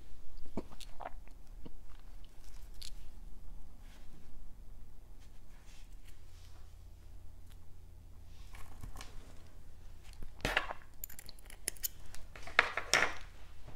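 Scissors snip threads while making rhinestone earrings. Sparse, close cutting sounds are scattered over a quiet background, with a couple of sharper, louder snips near the end.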